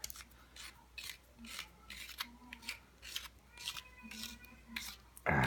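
A tactical flashlight's tail cap, which doubles as a window breaker, being unscrewed, giving quiet, rhythmic gritty rasps of thread turning close by, ending in a sudden louder knock.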